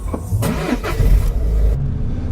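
A Citroen C4 Grand Picasso Exclusive BlueMotion pulls away on the road, its engine loud and close as it rises in revs with a short surge, then settles.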